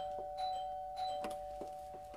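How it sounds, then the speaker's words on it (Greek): A doorbell rings in a Greek TV drama scene, giving two or three bright electronic chimes over a steady background hum. "Πώς δεν ακούει, ολόκληρη η καμπάνα χτυπάει."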